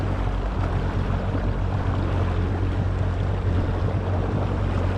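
Kawasaki SXR 1500 stand-up jet ski riding across water with aftermarket R&D sponsons, a steady loud low engine drone with hull and water rush and wind buffeting the microphone throughout.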